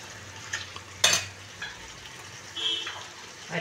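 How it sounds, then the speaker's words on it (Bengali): Chilli chicken gravy with cornflour water stirred in a pan: a soft simmering sizzle with a sharp scrape of a utensil against the pan and a few lighter clinks, fairly quiet and without talk. "ভালো করে গুলে এটা দিয়ে দিলাম, দিয়ে এটা নেড়ে নেব"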